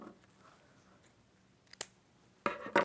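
Scissors cutting satin ribbon into inch-long pieces for a feather headband: a few sharp snips, one isolated cut then two quick close cuts at the end, with quiet handling between.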